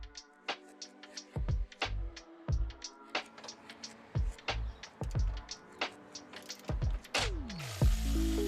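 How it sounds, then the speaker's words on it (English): A Torx T40 bit turning out fasteners on a radiator mounting bracket of a Jaguar XJ6 X300, heard as repeated close ratcheting clicks and metallic clanks in irregular bursts, with no voices. "Remove the radiator mounting bracket using a T40 Torx."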